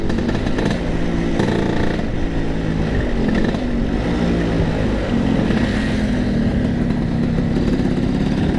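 Vespa scooter on the road, a steady mid-pitched engine drone with the rider on board, continuous and close alongside wind rumble, with slight shifts in pitch as it cruises.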